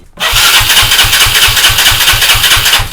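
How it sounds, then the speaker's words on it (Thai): A motorcycle or small engine left parked for a long time cranks and catches, settling into a loud, steady, rapid idle thump that runs on alone after a brief silent start. "เดี๋ยวเราจะมาลองสตาร์ทกันดูว่าจะ ติดไหม"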